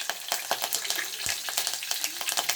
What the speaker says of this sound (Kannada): ಸಾಸಿವೆ ಜೀರಿಗೆ ಮತ್ತು ಉದ್ದಿನ ಬೇಳೆನ ಹಾಕ್ಕೊಳ್ಳೋಣ ಬನ್ನಿ ನೋಡಿ ಹಾಕ್ಕೊತಾ ಇದ್ದೀನಿ ಹಾಗೆ ನೆಕ್ಸ್ಟು ಕರಿಬೇವು